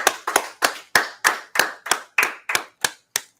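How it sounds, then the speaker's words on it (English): Eleven evenly spaced, sharp hand claps at a steady rhythm, close and clear with no talking, more like one or two people clapping than a full audience during a Wednesday night law and history class. "Let's clap it up."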